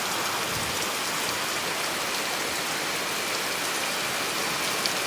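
Heavy rain pours down steadily outside a house on a flooding street, a dense, unbroken hiss of drops drumming on surfaces with no voices.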